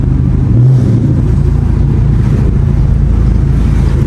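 A deep, loud Dodge Charger Scat Pack widebody engine with catalytic converters removed drones steadily throughout, with a brief throaty swell near the start, heard from inside the car in traffic.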